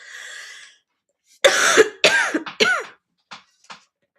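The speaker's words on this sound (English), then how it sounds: "I'm going to have a nice little coughing fit for you." A short burst of harsh, wet coughs, three or four in quick succession, then a couple of fainter trailing coughs, close by.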